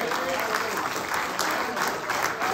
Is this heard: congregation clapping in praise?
yes